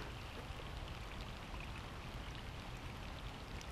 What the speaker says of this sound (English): I really don't like being out in this rain.